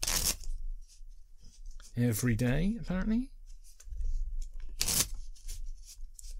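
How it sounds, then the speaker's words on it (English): A deck of playing cards being shuffled in short rustling, riffling bursts close by, interleaved with a person talking. "I'm going to shuffle the deck of cards."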